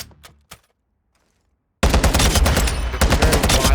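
Rapid rifle fire from Call of Duty: Modern Warfare II bursts in loud and sustained after a quiet stretch with a few faint clicks, a dense continuous volley of shots with heavy recoil.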